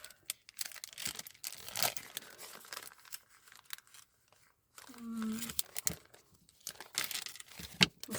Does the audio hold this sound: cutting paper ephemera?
yes